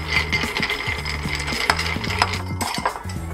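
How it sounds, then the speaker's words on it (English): A Monte Carlo whiskey cocktail with Benedictine is stirred with a spoon, ice clinking rhythmically against the glass in quick repeated chinks, close and clear with no talk. "Give it a stir."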